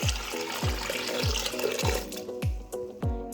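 Water being poured into a pressure cooker holding beef in a home kitchen, a splashing liquid stream punctuated by regular low glugging pulses about every half second, close and continuous, with no voices.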